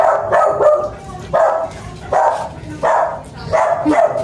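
A dog barks close by in repeated loud bursts, about five or six barks with short gaps, with a faint whimper between them.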